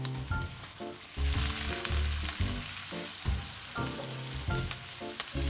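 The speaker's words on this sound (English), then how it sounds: "while the vegetables take about 5 minutes to cook down" Mushrooms and vegetables fry in a pan for a White Castle slider stuffing, a steady close sizzle with occasional stirring scrapes and clinks, no voices.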